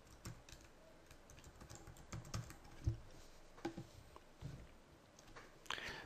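Quiet computer keyboard typing as login details are entered, with soft irregular key clicks in short bursts, faint and close in a calm room.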